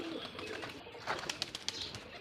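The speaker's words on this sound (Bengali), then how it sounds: "54-55 জোড়া কবুতর রয়েছে, এর মধ্যে যে ঘুঘু রয়েছে, এই জায়গায় ঘুঘু রয়েছে" Pigeons and doves at a farm with some fifty pairs of birds give soft, low cooing alongside a few brief flutters, fairly faint and close, with no talking.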